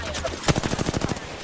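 A quick burst of rapid automatic gunfire in Apex Legends, about eight evenly spaced shots in just over a second, loud and close over a steady game background.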